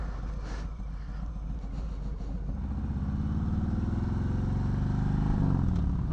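A Harley-Davidson Softail motorcycle pulls away, its engine rumble building steadily from a low idle into a louder, rising drone over several seconds, close by with constant wind and road noise and no talking.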